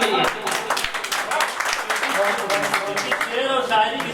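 An audience applauds at a mushaira, a dense, steady burst of clapping from a crowd that stays loud through the whole stretch, with voices mixed in.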